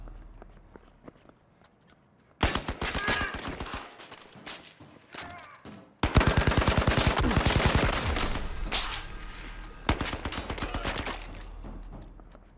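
Gunfire in the VR shooter Zero Caliber comes in rapid automatic bursts, several loud volleys of fast repeated shots with brief pauses and shuffling movement between them.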